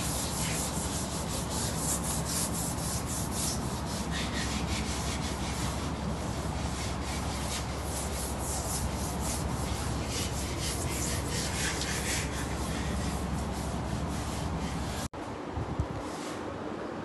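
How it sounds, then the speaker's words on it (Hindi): Old paint being sanded off a wall during room renovation: a continuous, loud, close scratchy rubbing with a steady back-and-forth texture, breaking off abruptly near the end. "पेंट घिसने वाला काम देख कर इसमें बहुत मेहनत लगती है"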